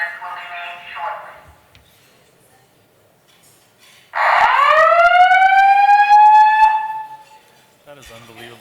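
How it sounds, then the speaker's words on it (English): A loud hotel fire alarm siren rises sharply and holds a steady wailing tone for several seconds, then cuts off, following a brief electronic chime and a recorded announcement voice. "Trained hotel personnel are responding to the cause of the alarm."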